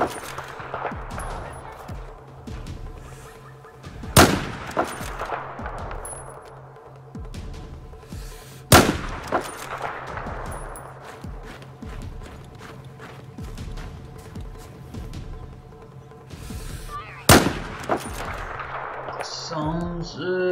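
Sniper rifle fire in Battlefield 4 gameplay: three sharp, loud single shots spaced several seconds apart, with a player talking in Hindi and quieter game sounds in between.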